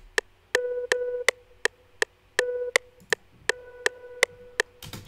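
A dry synth plays short, clicky plucked notes in a steady repeating rhythm, separate and unadorned, with a brief burst of noise at the end.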